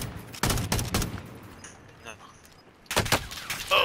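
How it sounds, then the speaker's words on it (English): Bursts of gunfire from a multiplayer shooter game, rapid volleys of shots in two clusters separated by a quieter stretch with faint distant pops, loud and close. "they're shooting at each other"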